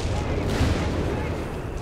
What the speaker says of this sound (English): Lot of artillery just running about here.